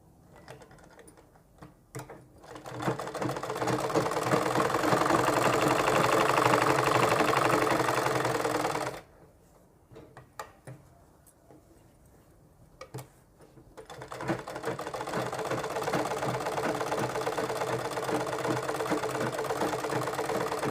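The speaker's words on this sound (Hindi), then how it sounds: "जिस तरह से हमने मार्क किया है हम उसी तरह से मशीन को चलाएंगे।" Sewing machine stitching along a marked line on the back neck of a kurti, a steady mid-pitched motor whir that runs loud for several seconds, pauses, then resumes in a longer continuous run, with no talking.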